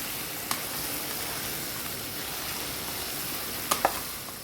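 Pointed gourd (parwal) frying in a pan, a steady close sizzle with a few sharp scrapes and clicks as it is stirred, and no talking.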